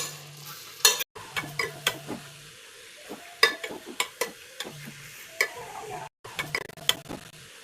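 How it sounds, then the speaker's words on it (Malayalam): Four beaten eggs fry in a pan for green peas egg masala, stirred vigorously with a spoon: quiet sizzling under a run of sharp scraping clicks and knocks at an uneven rhythm. "അപ്പോൾ നമ്മൾ ഇതിൻ്റെ സ്പീഡൊന്ന് കൂട്ടിയിട്ട് നല്ലവണ്ണം ഇളക്കി കൊടുക്കുക."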